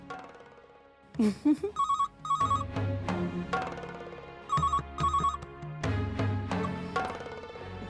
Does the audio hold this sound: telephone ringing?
yes